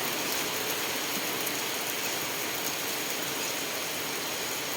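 Steady rain falls outdoors near a damaged house in Thailand, a dense even hiss of drops on surfaces that holds constant throughout, with no voices.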